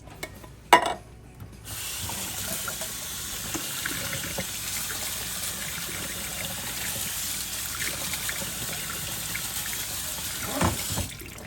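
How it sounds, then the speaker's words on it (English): Tap water runs steadily into a sieve of rinsed canned black beans and dark red kidney beans at a kitchen sink, a continuous close hiss lasting most of the clip after a brief clatter at the start. "I'm gonna pour these out in a sieve and rinse them off, especially the black beans."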